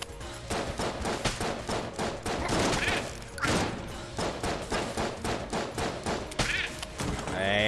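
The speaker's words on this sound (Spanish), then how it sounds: "¡Me disparan!" Rapid bursts of video-game gunfire in Enter the Gungeon, with repeated sharp shots and thumps in a dense, rhythmic volley and a brief voice partway through.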